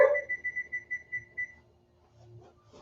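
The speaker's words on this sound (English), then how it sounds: "Timer." A kitchen oven timer beeps about seven quick, evenly spaced times, close and clear, then stops and leaves a quiet room with faint background noise.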